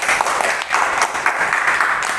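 A school class applauds a group of classmates, close, lively clapping from many hands in uneven bursts that briefly dips midway and then picks up again.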